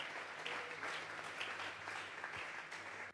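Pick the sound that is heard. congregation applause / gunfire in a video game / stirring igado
congregation applause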